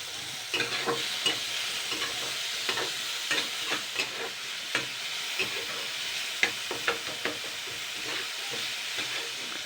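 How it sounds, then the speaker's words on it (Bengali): Onions and cumin sizzle steadily in a pan while a spoon stirs them, giving repeated scraping clicks and knocks over the continuous frying hiss, close and moderately loud, with no talking. "পেঁয়াজটাকে একটু হালকা নেড়ে চেড়ে নেবো।"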